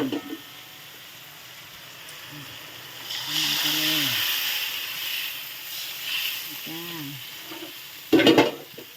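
Thin rice noodles stir-fried in a pan with sugar and seasonings, giving a steady sizzling hiss with scraping stir strokes and a sharp clatter near the end; someone speaks briefly over the cooking.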